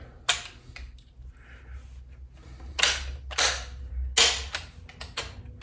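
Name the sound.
Greener police shotgun lever popping open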